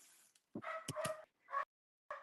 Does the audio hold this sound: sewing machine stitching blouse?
no